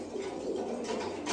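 Pigeons coo softly against a dense, noisy background hiss, with soft chirps scattered throughout and no clear talk.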